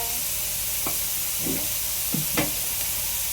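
Garlic and onion frying to golden brown in a pan, a soft constant sizzle with a few brief clinks and stirring scrapes of a utensil scattered over it.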